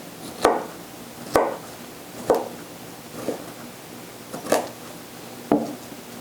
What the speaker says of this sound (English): Okay, so now we're going to slice these pears.